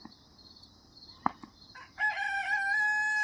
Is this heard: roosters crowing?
yes